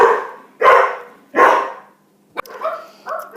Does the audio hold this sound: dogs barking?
yes